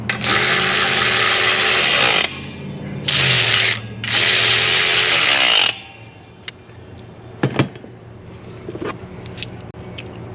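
Power tool tightening bolts on an EGR cooler of a 6.7 Cummins diesel engine, three loud close whirring bursts with ratcheting, followed by quieter clinks and brief metallic knocks.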